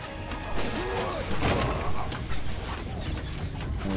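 Thrown weapons striking a wooden castle gate during a siege in Mount and Blade 2: Bannerlord, a dense clatter of crashing, thudding impacts amid battle din, with a sharp smash near the middle.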